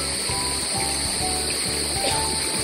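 A flowing river stream in the Ciwidey hills, a steady loud rush of water filling the whole stretch, with a faint high insect-like hiss and low rhythmic thumps beneath, no speech.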